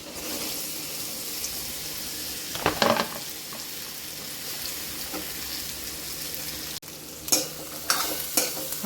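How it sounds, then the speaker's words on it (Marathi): Ridge gourd pieces frying in spiced oil tempering, a steady soft sizzle with occasional scraping stirs, then a sharper burst of crackling and stirring near the end. "आता हे आपण गिलके टाकून घ्यायचे पूर्ण फोडणीमध्ये"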